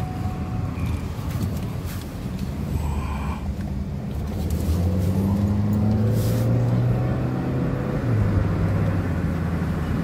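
A 2017 Ford Escape drives and swings through a U-turn, its engine a low, steady hum from inside the cabin that rises slightly as it pulls around, with faint road and wind noise.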